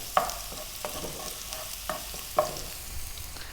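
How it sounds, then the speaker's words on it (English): Garlic and ginger frying in hot canola oil over above-medium heat, a steady close sizzle broken by a few sharp clinks and scrapes of stirring. "In goes the garlic and the ginger."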